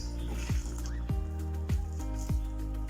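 Cabbage vada batter with a cracked egg is stirred by hand, giving wet squelching strokes that repeat about every half second, close and moderately loud with no talking.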